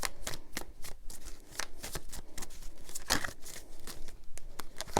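Tarot cards being shuffled by hand, a steady papery riffling with repeated sharp flicks and slaps, close and fairly quiet, with no talking.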